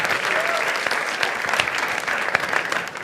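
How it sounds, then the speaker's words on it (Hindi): Studio audience applauding and cheering for Mithilesh on a comedy talent show, a dense steady wash of clapping that stays loud and even for the whole stretch with no voices breaking through. "एक बार जोरदार तालियां for Mithilesh once more, man."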